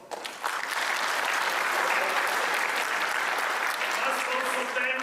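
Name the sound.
audience applause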